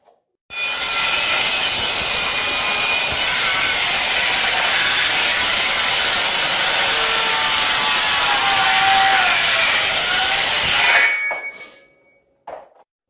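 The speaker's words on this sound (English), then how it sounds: "we're going to cut this. First step, we're going to make 2 of these that are 17 inches long." A saw cuts steadily through a wooden board at a 15-degree bevel for a weight bench, one loud continuous stretch of rasping cutting close by that runs about ten seconds, then stops and is followed by a brief clatter.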